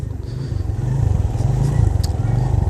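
A Suzuki GS150SE motorcycle is ridden, its engine droning steadily and close by with low rumbling pulses and faint road clatter, no talking over it.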